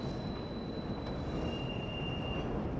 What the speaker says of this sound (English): explain the difference in the sound of an elevated train as opposed to a train that's running along the ground